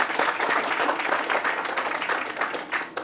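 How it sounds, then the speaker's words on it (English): An audience at a literary reading event applauds, producing dense, steady clapping from a crowd that fills the room for a few seconds. "I think we get a clap for that reading."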